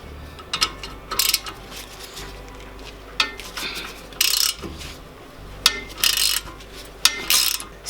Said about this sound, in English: So the pinch bolt retains the ball joint into the knuckle, which is this bigger piece. So we're gonna break this loose, pull it out